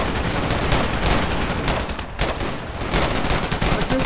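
Pistol gunfire in the Ravenfield video game, loud rapid shots in dense bursts with short gaps, continuous battle noise and no speech.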